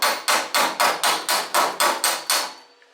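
Hammer planishes a steel front guard panel of a Holden HK, HT or HG car, ringing out with about ten sharp, evenly spaced metallic taps close up, each with a short bright decay, the final strike fading into quiet.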